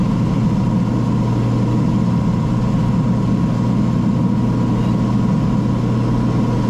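A Piper PA24 aircraft engine runs smoothly at a steady speed, a loud, close, unbroken drone with a constant low hum and no voices.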